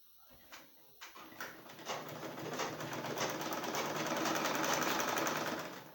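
Sewing machine stitching along the folded edge of a fitted trouser, starting with a few short bursts and then running steadily as a continuous close, fairly loud whir.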